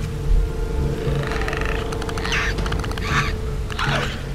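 Clicker creatures from The Last of Us video game make rapid raspy clicking bursts and gurgling calls over a steady low game ambience, repeating several times.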